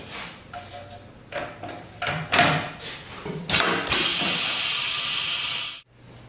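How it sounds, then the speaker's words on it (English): A tyre changer machine clamps a BST carbon wheel fitted with rim protectors, giving a series of short mechanical clunks and knocks that build into a loud, steady pneumatic hiss lasting nearly two seconds before cutting off abruptly. "After the rim protectors are in place, clamp the wheel into position."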